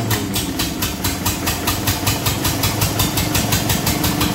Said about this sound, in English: She's just hitting on a couple of cylinders